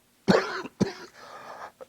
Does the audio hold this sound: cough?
yes